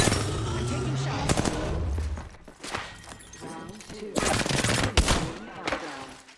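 An R301 rifle fires in rapid automatic bursts in a video game, with loud clustered shots separated by short pauses.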